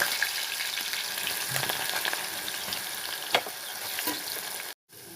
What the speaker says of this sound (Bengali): প্রথমে আমি কলাটা ভেজে নেব।